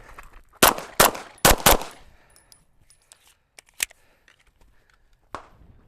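Gunshots while shooting at targets on a range, heard as four loud sharp cracks in quick succession, then after a pause a single distant-sounding shot and a last fainter report, with faint movement noise between.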